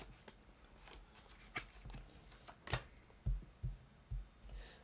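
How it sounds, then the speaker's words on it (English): A deck of cards is shuffled during a tabletop game with friends, a quiet series of riffling and tapping sounds with soft thumps near the end. "No, now you're shuffling."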